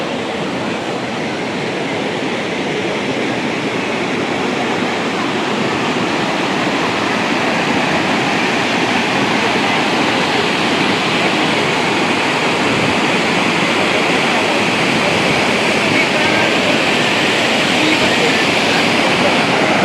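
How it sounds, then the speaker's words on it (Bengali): Dassam Falls, a waterfall near Ranchi, roars as a loud, constant broadband rush of falling water that fills the whole stretch without pause. "পিছনে দেখতেই পাচ্ছ ঝর্ণা, খুবই সুন্দর লাগছে।"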